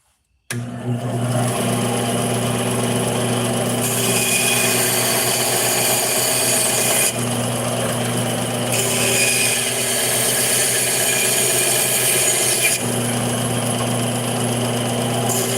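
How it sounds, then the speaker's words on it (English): Epoxy-set pins on knife handles are sawn off and ground down with a power tool, giving a steady, loud, close mechanical whir with a few shifts in pitch and tone as the cut changes, continuous with no talk. "the epoxy setting up on these pins that I now have to saw off and then grind down"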